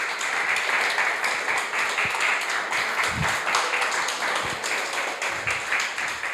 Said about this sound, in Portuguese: Dê uma salva de palmas bem forte para o Senhor Jesus Cristo.